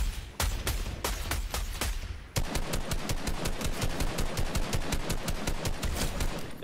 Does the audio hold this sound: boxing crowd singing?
no